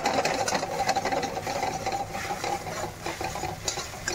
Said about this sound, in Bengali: ঝুরি ভাজা করে নিচ্ছি ডিমটাকে